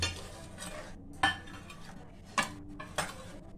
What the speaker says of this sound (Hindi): गैस मैं टमाटर और प्याज को इस तरीके से मिक्स कर दूंगी